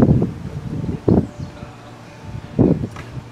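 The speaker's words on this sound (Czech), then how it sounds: "Ale máme mírné větrno. Severovýchodní vítr." Mild northeasterly wind at roughly 20 km/h gusts and rustles outdoors under an overcast sky, soft broadband blowing with a few louder buffets, while someone talks over it.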